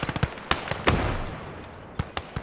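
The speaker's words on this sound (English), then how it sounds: "and that's a huge explosion." A huge explosion in the WWI video game Operation Iskra, heard amid sharp cracking bursts of gunfire and shell impacts, with a loud blast rolling into a long decaying rumble before further scattered pops.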